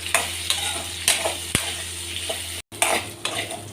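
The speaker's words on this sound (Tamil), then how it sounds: "இப்போ இந்த கட் பண்ணி வச்சுருக்கிற இந்த வெண்டைக்காய் அதில் போட்டு நல்லா வதக்கி எடுத்துக்கலாம்." Chopped okra fries in oil while a utensil stirs it, producing a steady close sizzle punctuated by regular scraping clacks of the spoon against the pan and one brief break in the sound.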